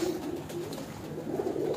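A breeder's pigeon coos, a low soft throaty warble rolling continuously at close range over a steady background hum, no talking heard.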